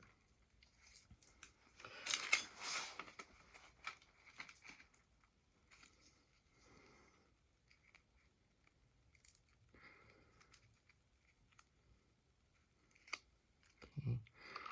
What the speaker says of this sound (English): So we'll take our scissors.